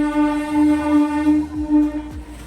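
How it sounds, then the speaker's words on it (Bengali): A train horn blares in one long, steady, loud tone as a train passes in Kolkata within view of Howrah Bridge, with a low rumble of the rolling train underneath. "ট্রেনে হর্ন পেয়ে গেছো"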